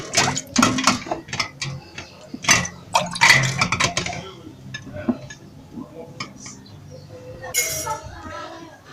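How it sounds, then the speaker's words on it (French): Glass jars and bottles clink and knock against each other and a pan as they are submerged in water for sterilizing, a series of sharp irregular clinks with sloshing, loudest early on and fading later. "les bouteilles que j'immerge complètement dans la casserole."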